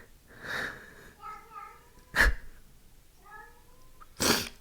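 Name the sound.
pet cat meowing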